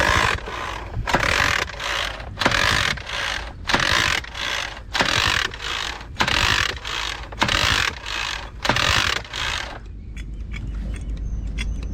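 Hand pump pushing oil into a boat engine, working in a steady rhythm of about a dozen loud mechanical strokes with short pauses between them, then stopping near the end.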